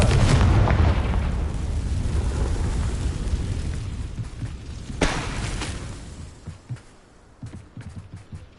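Loud booming spell explosions from the Confringo fire spell in Hogwarts Legacy: a heavy rumbling blast up front, a second sharp burst around the middle, then scattered smaller pops fading out.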